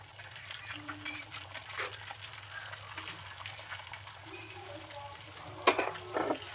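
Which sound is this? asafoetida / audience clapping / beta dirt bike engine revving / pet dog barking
asafoetida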